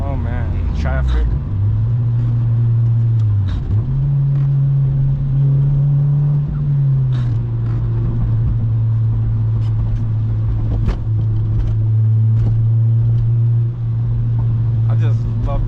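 Engine of an 8th-generation Honda Civic Si with VTEC, heard from inside while driving in the rain: a steady loud hum that rises and holds its pitch through gear changes, with someone talking over it.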